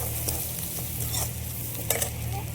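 Crushed garlic and ginger sautéing in hot oil for a tempering while being stirred, a close continuous sizzle broken by scraping spoon strokes against the pan, with a couple of brighter bursts.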